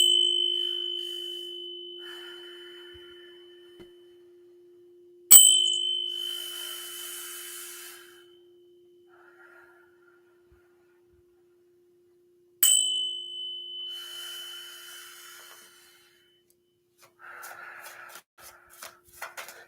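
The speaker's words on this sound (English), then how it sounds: "let's go ahead and ring the bell, too." Bell struck after a sound bath, each strike a bright ringing tone that decays slowly, heard twice clearly over a faint steady hum and followed by scattered light tapping and clatter.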